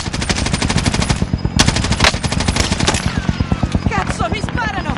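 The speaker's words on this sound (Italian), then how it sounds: "mi sparano!" Rapid bursts of automatic gunfire in a video game, dense and loud, with several volleys crackling back to back and some speech murmuring underneath.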